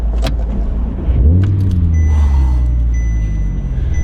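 An Audi R8 V10 supercar with a naturally aspirated 525-horsepower engine and six-speed manual gearbox rumbles close and loud, a low engine drone swelling after a second as it pulls away, with small clicks and rattles near the start.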